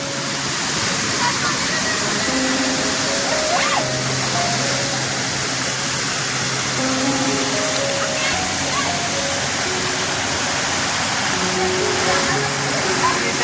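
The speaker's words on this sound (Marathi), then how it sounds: "छोटासा वॉटरफॉल सुद्धा बघायला मिळतो आपल्याला" Small waterfall on a village stream in rainy Konkan weather, a steady broadband rush of falling water running throughout, with a voice speaking over it.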